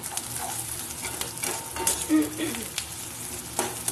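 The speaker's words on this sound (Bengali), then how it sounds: "প্রায় ভাজা ভাজা হয়ে এসছে আর দুর্দান্ত একটা স্মেল বেরিয়েছে" Chili prawns frying in a pan with sauce while a utensil stirs them, a close, continuous sizzle broken by scraping and clinking strokes against the metal.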